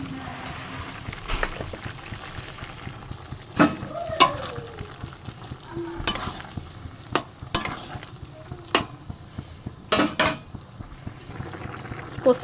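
Potatoes simmer in water in a pot with poppy seed paste, a gentle bubbling and sizzle punctuated by irregular clanks and scrapes of a utensil against the pot, close and unaccompanied by speech.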